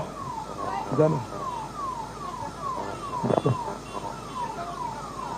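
Ambulance siren wailing in a steady repeating sweep as it moves through a crowd at an election rally, moderately distant, with voices calling out briefly over it.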